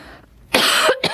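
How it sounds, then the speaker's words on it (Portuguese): A single sharp, loud cough bursts out, followed quickly by a shorter second cough after a brief pause. "Ainda tossindo até melhorar."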